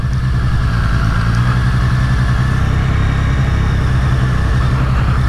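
A 2023 Triumph Street Triple 765 RS motorcycle runs steadily throughout, its engine holding a loud, close, continuous drone with a gentle throttle rise partway through and no talking.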